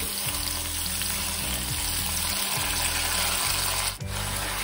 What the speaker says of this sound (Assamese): বৰা চাউলখিনি ধুনীয়াকৈ প্ৰায় 10 মিনিটমান মই ফ্ৰাই কৰিম।